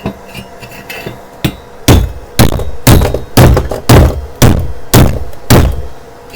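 A hammer strikes a fresh flux-core weld made with a Weldinger ME 130 Mini inverter welder, giving about nine heavy metallic thuds in a steady rhythm, loud and close, with a few lighter taps before them.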